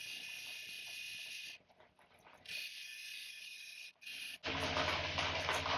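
Cabbing machine's 3000-grit wheel grinding a polished river stone, a bright whirring hiss that cuts in and out as the stone is pressed and lifted, quiet and close, no talk.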